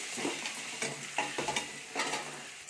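Onions and green chilli being stirred and sautéed in a pan for vadacurry: a soft continuous sizzle broken by several scraping strokes of a spoon against the pan, quiet and close, with no voices.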